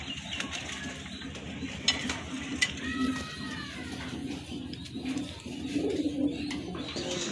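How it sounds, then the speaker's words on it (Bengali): Sirazi pigeons cooing in a loft, soft low repeated coos with bird calls close by over a steady background hum. "এটা হচ্ছে আপনার সিরাজি কবুতর"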